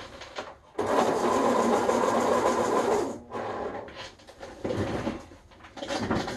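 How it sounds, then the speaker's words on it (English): A drawing tool is being sharpened, probably in an electric sharpener, which whirs in a loud steady burst for about two seconds, then in several shorter grinding bursts with brief pauses between them, close up and with no speech. "let me sharpen this real quick"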